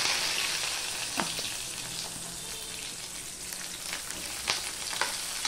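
Onion sizzling in hot oil with panch phoron for a bhendi (okra) curry, a steady close frying hiss with occasional soft stirring clinks and pops, no voices.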